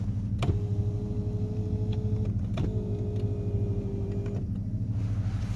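Electric power seat motor whirring in a 2007 Mercedes-Benz S550 interior, two sustained whining runs of about two seconds each with brief clicks at start and stop, heard up close over a steady low cabin rumble.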